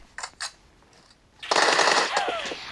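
Gunfire in the video game PUBG: a few faint clicks first, then a dense, loud burst of rapid automatic fire for just over a second.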